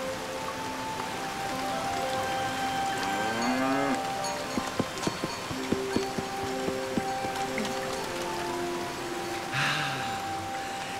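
A cartoon cow lows in a rising, drawn-out call in a quiet outdoor setting, followed by scattered knocks and soft patter like rain beginning to fall.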